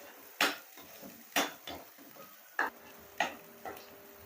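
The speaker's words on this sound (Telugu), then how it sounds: "ఈ ముద్ద బాగా ఏగేసి మనం ఇలా వేపేసుకోవాలి" Okra paste is stir-fried in a pan, with a run of sharp scraping clatters as the spoon strikes the pan at uneven intervals over a low, quiet sizzle.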